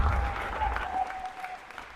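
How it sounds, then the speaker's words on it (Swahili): A church congregation applauds together during a Sunday service, a sustained burst of many hands clapping that fades out over about two seconds, with a faint tonal hum underneath. "Pigie Bwana makofi kwa ajili ya mambo matatu"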